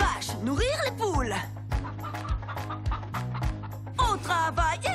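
Cartoon chickens cluck in a farmyard, short repeated clucks and squawks mixed in with a sung vocal line and music.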